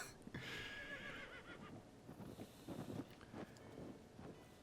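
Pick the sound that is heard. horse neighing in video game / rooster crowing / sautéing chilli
horse neighing in video game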